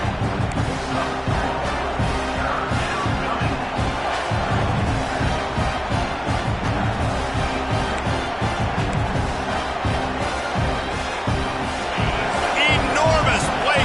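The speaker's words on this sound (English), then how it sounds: "this crowd is bringing down the house" A packed football stadium crowd roars continuously and loudly on a third down, with a dense, sustained wall of cheering and shouting.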